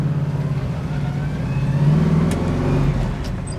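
A 1967 Chevrolet Camaro's engine pulls hard under acceleration, a loud, close, steady mid-pitched roar that rises slightly in pitch, heard alone without talk.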